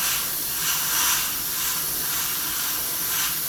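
An airbrush spraying white paint, a steady close hiss of air and paint with slight swells, alone with no talking.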